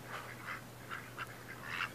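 A duck gives several short, nasal quacks in a loose rhythm. The calls are soft and fairly faint over a low background hum.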